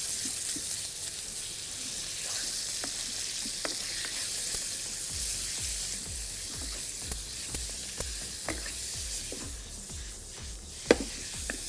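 Julienned chicken strips sizzle and stir-fry in a hot pan with ginger and garlic, a steady close hiss broken by scraping stirs and a few taps of a utensil against the pan.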